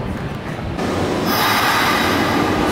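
A Japanese commuter train is heard from the inside while riding, giving a loud steady rumble of wheels on rails with a rising high squeal partway through and no voices.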